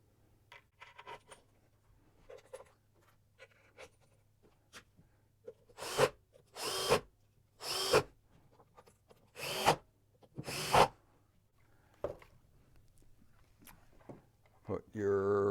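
Power drill driving screws back into a Petite machine's housing during reassembly, several loud, separate bursts of whirring, each lasting about half a second, spaced roughly a second apart, with a faint hum underneath.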